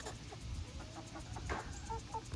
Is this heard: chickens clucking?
yes